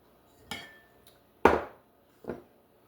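Dry ingredients for carrot cake cookies, all-purpose flour and spices, being stirred in a bowl: three separate clinking, scraping knocks of a utensil against the bowl, close and moderately loud, with quiet gaps between them.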